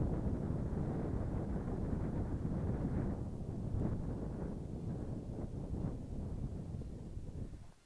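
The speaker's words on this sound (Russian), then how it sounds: "Ветер все сильнее и сильнее" Steady gusty wind buffets the microphone on a winter grayling fishing trip over river ice with light snow, a dense roaring rush that holds for several seconds before cutting out.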